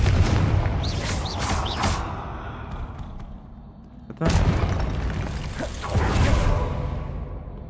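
Confringo fire spells go off in the Hogwarts Legacy video game, with whooshing casts and two heavy booming blasts, the second and louder one midway and another swelling near the end.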